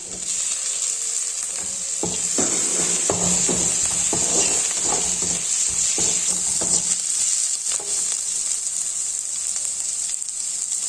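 Onion and tomato sizzle in a hot pan for Tamil idli manchurian, a steady loud frying hiss with bursts of stirring and scraping in the middle.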